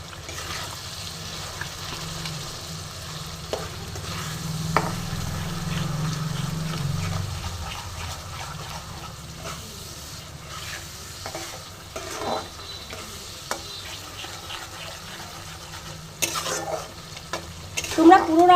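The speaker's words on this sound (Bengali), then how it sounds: "তো মশলাটা আমি খুব সুন্দর করে কষবো।" Spices, yogurt and chicken fry and get stirred in a pan over medium-high flame, a steady sizzle with repeated scraping stirs and a low rumble in the first seconds, no voices.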